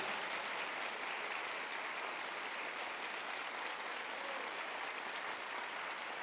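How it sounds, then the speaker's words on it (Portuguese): A church congregation gives a sustained round of applause for Jesus, a dense, steady wash of many hands clapping at once, fairly distant and even throughout, with no break. "Vamos dar uma salva de palmas a Jesus."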